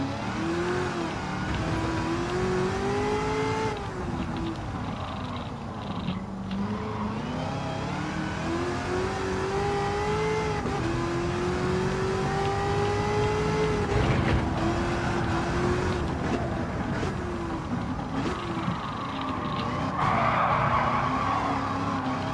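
Race car in a Gran Turismo driving game, engine revving up and down in rising and falling sweeps with tire skidding and squeal, loud and continuous for over twenty seconds.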